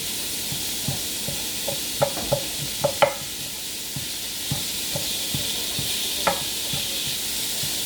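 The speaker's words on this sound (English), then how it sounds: "we're going to use this wooden spoon and get the mince cooking" Lamb mince sizzling steadily in a pan while a wooden spoon stirs and scrapes it, with a scattering of distinct knocks and scrapes over the constant frying hiss.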